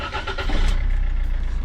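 A Rover 75 car engine is started out of gear; a short cranking churn catches into a loud, close, low rumbling idle.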